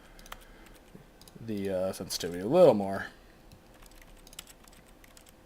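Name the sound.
keyboard key presses in the video game The Stanley Parable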